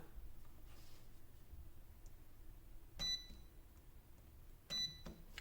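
A DIY battery spot welder set to its lowest level fires two separate welds, each a sharp crackling snap with a brief high zing, spaced about two seconds apart over a quiet room hum.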